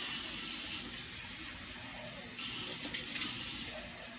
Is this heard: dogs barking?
no